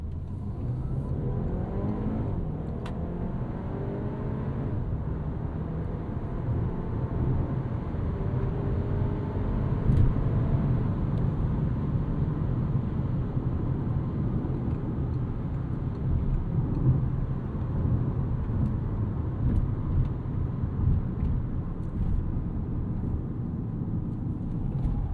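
A 2026 Audi Q3 compact turbo SUV drives through the city in automatic mode, its engine and road noise a steady, close hum with mild rises as it accelerates, and no talking over it.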